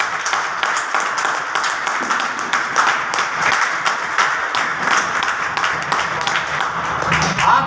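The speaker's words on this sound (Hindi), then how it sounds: "उनके लिए एक बार जबरदस्त ताली" An audience at a motivational training event claps continuously for several seconds, a dense, fairly loud and even applause with some voices mixed in.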